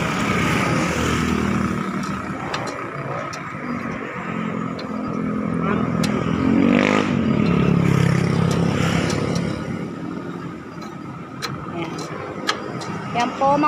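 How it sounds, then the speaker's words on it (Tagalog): A motorcycle running with a very loose chain, engine rumbling and revving up mid-way with clattering ticks, close by, while someone talks over it. "sobrang luwang nung kadena"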